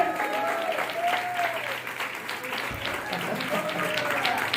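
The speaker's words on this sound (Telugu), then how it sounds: "तालियां बजा." Church congregation applauding, sustained dense clapping from a large crowd in a hall, with a voice speaking over it and a brief dip midway.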